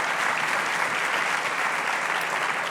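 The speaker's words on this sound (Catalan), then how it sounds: "Un aplaudiment per l'Albert Forn" Dense, sustained applause from a full conference audience at an education event, an unbroken even roar of many hands clapping together at close range, without any voices.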